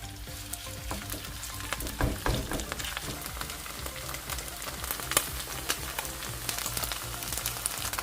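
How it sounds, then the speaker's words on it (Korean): Pork neck patties pan-frying in plenty of oil over medium heat, a dense, close, continuous sizzle and crackle with occasional louder pops and faint utensil taps, no voices. "예열된 팬에 식용유를 넉넉히 두르고 재료를 떠놓고 펼쳐가며 중불에서 노릇하게 구워줍니다."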